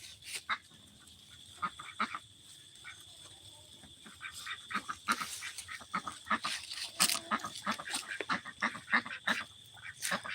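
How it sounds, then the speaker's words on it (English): Ducks on a farm give repeated honking quacks near and farther off, overlapping in an irregular chorus that grows busier over time, over a faint steady hum. "my ducks are coming back around here thinking I'm going to feed them again"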